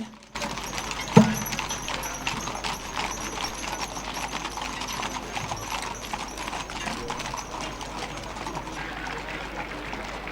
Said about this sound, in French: la cavalerie montée de la gendarmerie nationale aux ordres du capitaine El Hadj Sow qui défile avec 105 chevaux